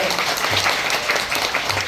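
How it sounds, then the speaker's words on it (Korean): Steady applause from a theater audience after a children's musical performance of Sleeping Beauty, dense clapping filling the whole moment without a break, fairly loud and close. "박수 다시 한번 부탁드리고요"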